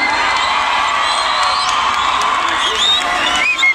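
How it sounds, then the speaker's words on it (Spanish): Crowd at a live concert in Ecatepec cheering, whooping and applauding, a loud dense roar with whistles and shouts throughout. "¡Aplausos para este cabrón!"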